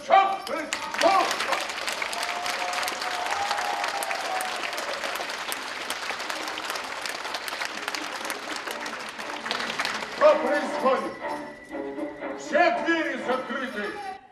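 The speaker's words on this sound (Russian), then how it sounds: "Его появление на сцене ожидаемо вызывает аплодисменты." A theatre audience bursts into sustained applause, a dense wash of clapping that fades after about ten seconds, followed by scattered voices and movement.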